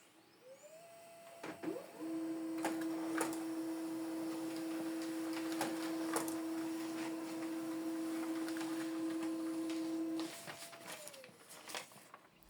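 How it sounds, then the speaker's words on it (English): An HP LaserJet M107W laser printer prints pages, with a steady mechanical whir and a sustained tone over about eight seconds, plus clicks and clunks at the start and end of the run. "So these are the documents we printed out with this printer from the laptop."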